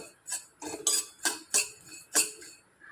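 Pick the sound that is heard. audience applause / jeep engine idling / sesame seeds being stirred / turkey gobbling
sesame seeds being stirred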